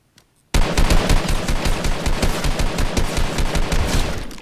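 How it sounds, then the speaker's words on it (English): Sudden loud automatic gunfire in Fortnite begins after a brief quiet moment and continues as a steady, rapid stream of shots, with no talking over it. "He was shooting,"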